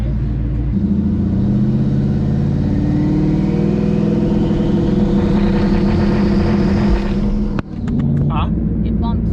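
A twin-turbo Ford Mustang drag car's engine is held at steady high revs on a transbrake and two-step, a loud, dense rumble that climbs gradually before cutting sharply near the end, with voices partly under it.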